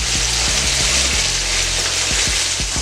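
Chicken thighs fry in a hot pan at about 350 degrees, giving a loud, steady, close sizzle with a few soft knocks of the meat shifting against the pan.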